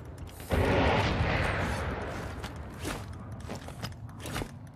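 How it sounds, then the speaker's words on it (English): Gunfire cracks in a video game firefight, a loud burst followed by scattered distant shots that keep popping irregularly in the background. "there's more shooting out there, too"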